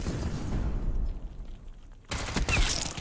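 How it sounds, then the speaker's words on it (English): Automatic sentry turret firing in a first-person shooter video game, a loud sustained burst of rapid gunfire that drops away briefly and then resumes with a sharp, dense volley. "Sentry turret's live."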